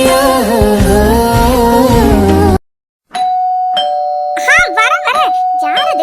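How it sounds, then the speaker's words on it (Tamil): A loud electronic doorbell chime plays a melodic tune, cuts off briefly, then rings again in repeated short bursts. "காலிங் பெல் இப்படி அழுத்திட்டே இருக்கிறது."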